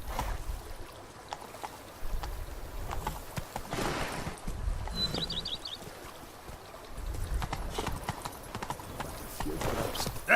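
Roach, a horse in The Witcher 3: Blood and Wine, gallops with loud, rapid hoofbeats throughout, accompanied by game ambience and a brief whinny-like sound.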